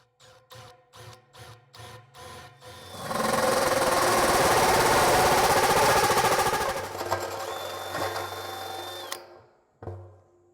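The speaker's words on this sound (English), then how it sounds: "So now we've got our 2-inch hole saw back on our drill." A drill fitted with a 2-inch hole saw cuts a smokestack hole through a steel drum for a 55-gallon drum smoker. A series of short bursts leads into a loud, sustained grinding cut that fades out, with a final short burst at the end.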